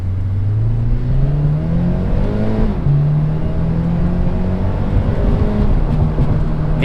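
Vortech-supercharged Subaru FRS with an automatic transmission accelerating hard, engine pitch climbing steadily, dropping at a quick upshift, then rising again; loud, close, steady interior drone with supercharger whine.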